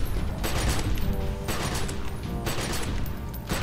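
Gunfire from the video game The Secret World against zombie hordes: sharp shots at roughly one-second intervals over a steady, busy game background.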